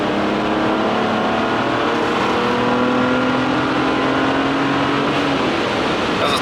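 Drift car fitted with a G35 engine pulling uphill in third gear, a loud close engine note climbing steadily in pitch as it accelerates, with a brief drop near the end and no speech.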